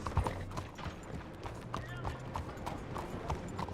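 Horse hooves clip-clop at a steady walking rhythm in Red Dead Redemption 2, close and moderately loud, set along railway tracks with faint game ambience and brief talk over it.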